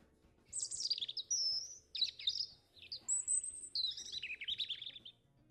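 American robin song of short, rich warbled phrases separated by brief pauses, clear and moderately near over faint background hum.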